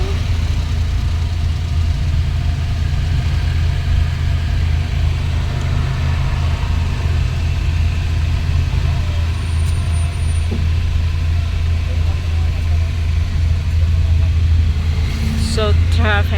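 Heavy city traffic in Davao City near SM Lanang at night, with car engines idling in a continuous low rumble and drone, steady and close, faint clicks near the end.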